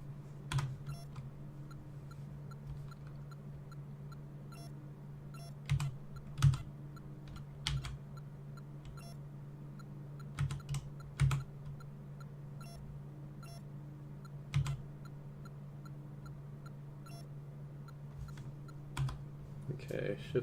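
Computer keyboard typing in sparse, irregular clicks and a few sharper key strikes over a steady low hum, while someone plays a Game & Watch Mario Bros. game.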